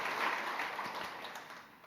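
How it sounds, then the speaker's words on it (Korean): Church congregation clapping during a sermon, a dense wash of applause fading gradually over a couple of seconds, no voices. "그럼 박수 한번 쳐주셔야 돼요"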